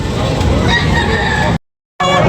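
A stag rooster crows loudly and close at a chicken sale in Tabunok, Talisay, Cebu, a long harsh call that cuts off abruptly, then resumes briefly after a short silence.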